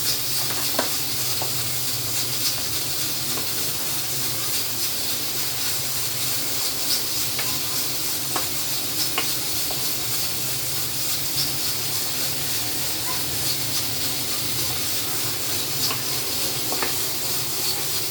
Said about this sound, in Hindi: इसको अच्छे से भूनना ताकि मसाला इसका दानेदार हो जाए